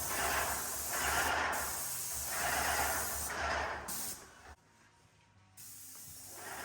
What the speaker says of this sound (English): here we are spraying it, and what we are using is a Sherwin-Williams Emerald